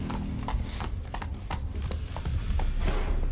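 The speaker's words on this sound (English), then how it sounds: "Controlling the horses is so difficult." Horse hooves gallop in The Witcher 3, a fast, steady clip-clop of close, loud hoofbeats with no voices over them.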